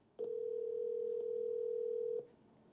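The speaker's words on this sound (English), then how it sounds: "So the phone is ringing and it shows me the number." A FOSMET LGW6 smartwatch rings for an incoming phone call with a single steady electronic tone held for about two seconds, clear and close, with faint clicks at start and end and no talking.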